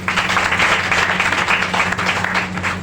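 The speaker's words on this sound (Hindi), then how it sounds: "इसके लिए जोरदार तालियां।" A live audience at a home meeting bursts into sustained applause, a dense wash of clapping that stays steady and fairly loud for the whole stretch without any speech over it.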